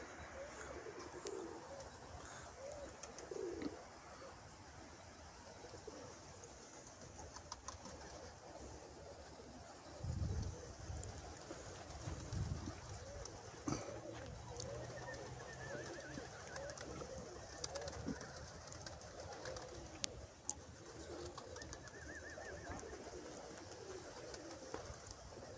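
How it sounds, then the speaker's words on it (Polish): Pigeons coo softly at a distance, low repeated calls sitting under a steady bed of outdoor ambient noise, with a few brief louder coos near the middle. "To są kurwa gołębie."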